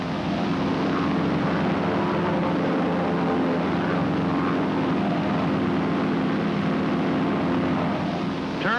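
Propeller planes flying together in echelon formation make a loud, constant engine drone that stays steady and close throughout with no pauses.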